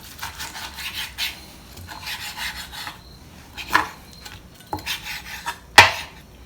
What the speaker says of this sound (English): so now we're gonna cut this steak now. Just cut it across